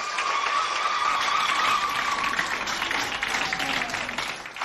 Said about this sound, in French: Alors, applaudissez très fort pour vous